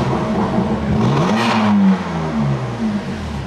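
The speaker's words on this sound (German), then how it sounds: "Gib nochmal Gas vielleicht hier." A 2020 BMW M4 F82 with Akrapovic catless downpipes and Stage 2+ tuning revs up close, its engine tone rising to a loud peak and then falling back toward idle with a lingering exhaust rumble.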